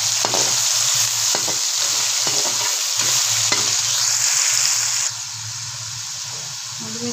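Taro (arbi) masala sautés in a pan with green chillies, a steady hiss of frying under repeated scraping stirs of a spoon, dropping slightly quieter near the end.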